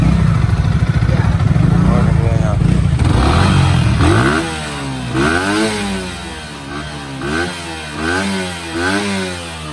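A Yamaha MT-15 motorcycle with a modified open exhaust and a larger header pipe runs loud and close, holding a steady throbbing idle before several blips of the throttle whose pitch swoops up and back down.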